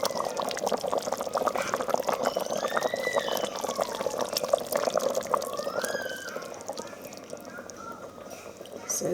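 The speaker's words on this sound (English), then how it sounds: "So now I'm going to add Akamu, dissolved Akamu, okay, and I will start stirring." Dissolved akamu, a fermented corn pap, being poured into a pot and stirred while cooking Nigerian agidi jollof, giving a soft, continuous liquid pour with faint splashes and gentle scraping.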